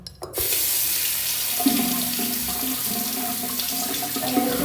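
Tap water runs steadily into a sink while someone washes their face as part of a cleansing routine. The flow starts abruptly after a brief quiet moment and stays close and loud, with no talking.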